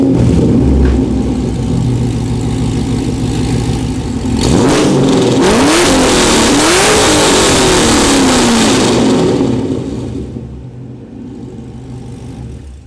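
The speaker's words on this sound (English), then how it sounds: "It's got an exhaust. It sounds pretty spicy. I'll let you guys hear it." A modified car engine with long tube headers, an opened intake and an aftermarket exhaust idles loudly up close, then revs hard in several sweeping rises and falls before settling back toward idle.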